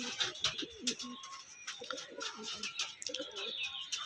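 A green gift pigeon coos after being released, giving soft, low, repeated coos in several bursts, close by and fairly clear, with faint background sounds.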